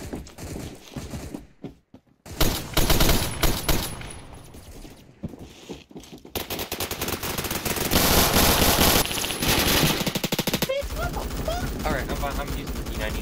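An M60 machine gun fires in a video game in several loud bursts of rapid shots, broken by brief pauses, with someone talking intermittently between and under the firing.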